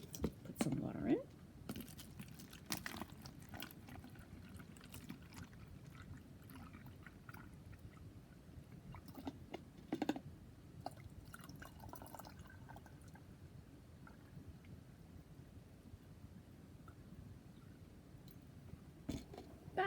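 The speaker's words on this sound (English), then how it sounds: "We're going to put a little bit of water in there." Water trickles and splashes into a plastic water bottle in short pours and drips, fairly faint and close, while someone talks over it.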